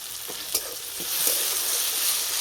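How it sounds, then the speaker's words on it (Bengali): Vegetables frying in a covered pan for a light vermicelli snack, a steady close hiss of sizzling oil with a few soft clicks and knocks, no voices. "চাপা দিয়ে সবজিগুলো ভালো করে ভেজে নেব"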